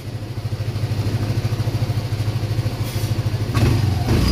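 A Yamaha Aerox 155 scooter engine idles with a steady, rapid low chugging pulse, close and fairly loud, with a brief rise in clatter near the end; the idle has a fault where it tends to drop.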